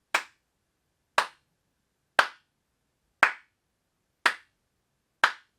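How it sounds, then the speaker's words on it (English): Six sharp hand claps in an untreated home theater room, evenly spaced about a second apart, each with a short ringing tail of room reflections and silence between. "I'll do a little clap test here just so you can kind of hear the room reflections and things like that"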